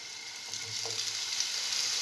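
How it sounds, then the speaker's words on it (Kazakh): Onions fry in hot oil with a steady, close sizzle and hiss throughout, fairly soft, with a faint stir or two and no talking. "Жуаны қуырып бастаймыз ең бірінші."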